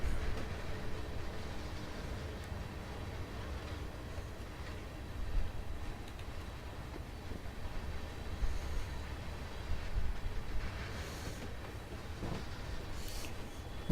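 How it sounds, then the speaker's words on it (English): A train moves along railroad tracks at a steady distance, giving a continuous low rumble with faint rolling noise and no voices over it. "I'm still telling you guys, there's a train."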